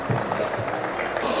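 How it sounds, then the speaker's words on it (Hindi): An audience at a college rangoli competition clapping for a group, a brief dense burst of many hands with crowd murmur mixed in. "जोरदार तालियां बजाओ एक बार अपने ग्रुप के लिए।"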